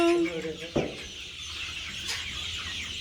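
A chicken gives a short, clear cluck up close, followed by a soft knock and quieter background noise.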